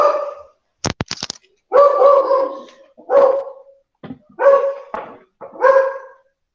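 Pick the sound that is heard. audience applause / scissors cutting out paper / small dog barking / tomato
small dog barking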